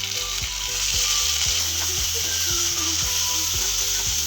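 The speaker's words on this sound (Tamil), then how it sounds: "வெங்காயம் நல்லா வதங்கிட்டு இருக்கு" Onions sautéing in a pan for a vanjaram fish kuzhambu, a steady, loud sizzle with a rhythmic mechanical ticking or clatter running underneath throughout.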